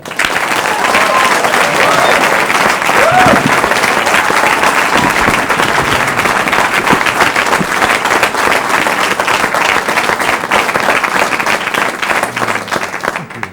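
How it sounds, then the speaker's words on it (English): A studio audience breaks into a sustained, loud round of applause with scattered cheers as comedian and impressionist Larry Sullivan is introduced, the clapping dense and steady throughout. "Please, a nice round of applause."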